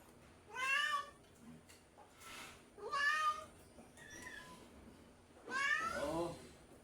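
Pet cats meow repeatedly while being fed bread, with about four close, drawn-out calls separated by short quiet gaps. A faint voice can be heard in the background.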